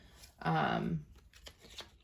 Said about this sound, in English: let's just start pulling your cards